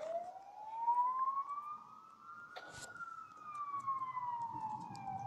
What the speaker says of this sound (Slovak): Sanitka tu hučí.